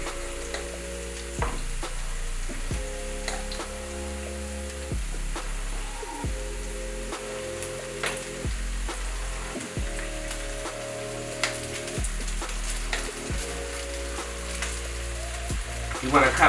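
Rice stir-frying with caramelized vegetables in a hot pan gives a steady close sizzle, with scraping and tossing strokes, under a low droning hum that pulses in repeated, regularly spaced blocks. No one speaks.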